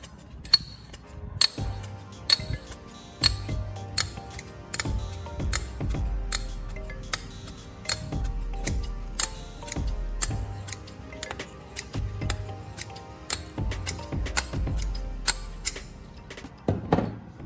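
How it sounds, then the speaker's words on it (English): Scissor blades rubbed repeatedly along the neck of a hard glass bottle give a steady series of sharp clicks and scrapes, close and fairly loud, with no voices. "Open the scissors and cut along the neck of the bottle several times."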